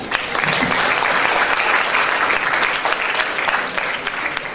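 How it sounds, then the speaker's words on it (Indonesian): Applause from an audience of students and guests at a campus insurance seminar, a thick continuous roar of clapping, loud and sustained before tapering slightly near the end. "boleh tepuk tangan untuk kita semua"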